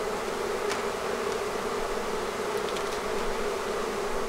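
Honey bees buzz in a dense, steady drone as two hives are combined into one bee barn, a continuous close swarm hum with no voices.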